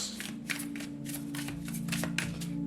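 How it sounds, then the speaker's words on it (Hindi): Tarot cards are shuffled by hand in a quick run of crisp riffling bursts, steady and close, with a low hum beneath. "शफल कर लेते हैं।"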